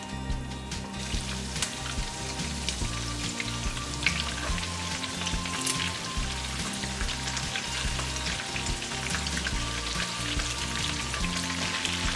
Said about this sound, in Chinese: 充分混合之后下油锅来煎。